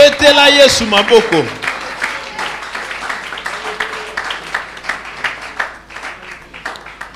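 A church congregation at a French Christian seminar applauds and cheers for Jesus, a spirited crowd clapping in steady rhythm after a brief shout, with voices calling out over the applause.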